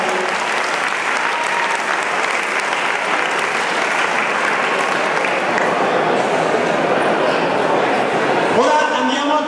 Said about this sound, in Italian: applauso da mescolare